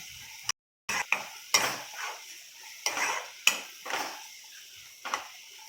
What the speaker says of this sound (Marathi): छान तेल सुटेपर्यंत फ्राय करून घ्यायचे आपल्याला छान